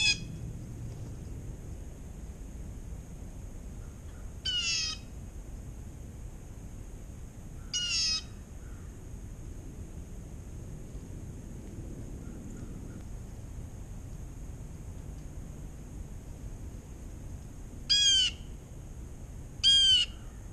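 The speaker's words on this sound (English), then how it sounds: "Here's some footage of birds." Wild birds at Hickory Creek Campground on Lewisville Lake on a January morning give a few separate, fairly near chirping calls, in two pairs spread well apart, over a steady high insect-like tone and low outdoor rumble.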